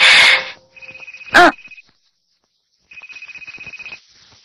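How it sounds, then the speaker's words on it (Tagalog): Cellphone ringtone in a Tagalog-dubbed anime episode: a repeating pulsed electronic tone, loud and close, broken by a sharp sound burst and a pause before the ringing resumes. "Sagutin mo na yung phone mo."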